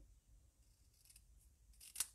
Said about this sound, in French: je vais essayer de recouper un tout petit peu mon papier